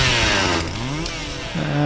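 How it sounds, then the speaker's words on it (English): A Husqvarna 137 chainsaw runs steadily close by, its engine dipping in pitch briefly and then rising again as it keeps idling and revving. "Time to start her up again and make sure that we've got oil coming out"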